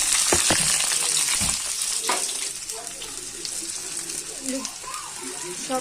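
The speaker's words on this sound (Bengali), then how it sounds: "সব একসাথে তেলে ভেজে ফেলবো" Prawns with onion, tomato and chili fry together in oil, a loud continuous close-up sizzle with a few quick stirring knocks early on.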